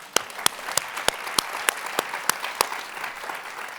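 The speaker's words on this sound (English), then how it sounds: "Let's give him applause." Sparse applause from a small audience at a food festival with chefs cooking on stage: a steady run of distinct, sharp claps spaced fairly evenly, moderately close and unaccompanied by talk.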